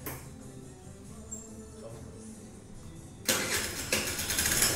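A Mondial 50cc motorbike engine, just repaired after a broken drive belt, starts at a roadside repair shop: quiet background noise, then the small engine catches and runs on, growing louder and buzzing steadily near the microphone.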